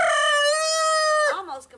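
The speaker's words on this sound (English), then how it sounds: "Time out for chicken fight." A rooster crows loudly and close in a backyard flock of laying hens during a squabble, one long sustained call that breaks off into rough squawks.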